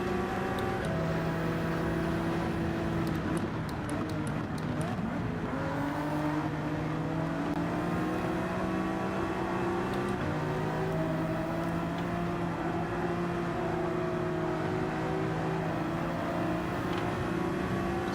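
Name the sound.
race cars driving in Gran Turismo 7 video game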